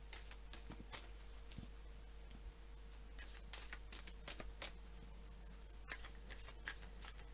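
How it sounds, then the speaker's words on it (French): Tarot cards are shuffled at close range, a run of quick soft riffling snaps and patters over a steady low hum, with no talking. "on va mettre une carte supplémentaire."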